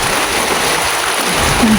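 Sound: heavy rain during a storm over rice fields

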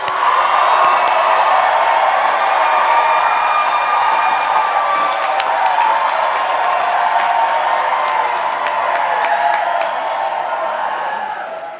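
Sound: audience applause and cheering at convocation

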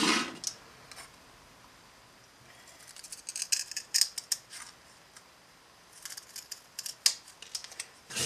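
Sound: cutting through very thin plywood

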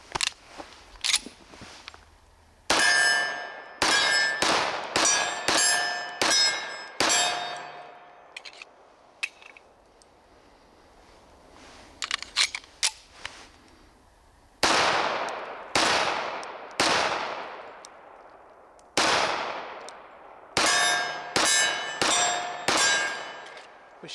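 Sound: pistol shots ringing steel targets

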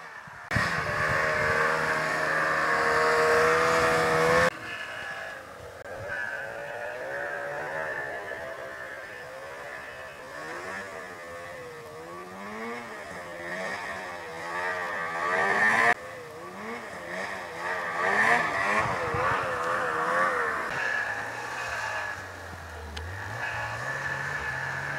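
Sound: Ski-Doo 872 Etec snowmobile engine revving

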